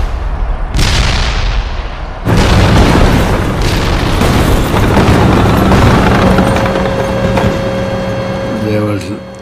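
Heavy artillery fire and explosions form a loud battle soundscape: a sharp boom opens, a second massive blast follows, and a long rumbling roar decays beneath lingering mechanical tones.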